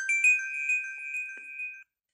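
A magic tune notification chime from an iOS jailbreak tweak plays alone, a bright sustained melodic tone with sparkly overtones lasting under two seconds before cutting off cleanly.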